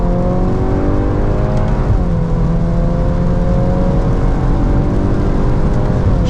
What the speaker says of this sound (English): Shifts are incredibly quick here with this Golf R. Awesome power on the straight.